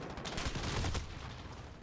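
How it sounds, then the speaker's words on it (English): Assault rifle gunfire in a competitive video game match, a loud dense burst of rapid shots that fades slightly toward the end of a short stretch, with no talking. "Frost still with... just going hard with the AR"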